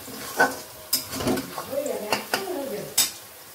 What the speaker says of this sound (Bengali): পেঁয়াজটাও আমার লাল করে ভাজা হয়ে গেল, আর একটুখানি ভেজে নিই